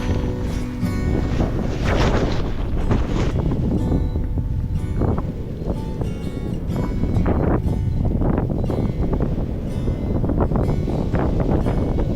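A steady breeze buffets the microphone during a paraglider launch on the Puy de Dôme, a continuous loud, rough wind roar with gusty swells throughout and no speech.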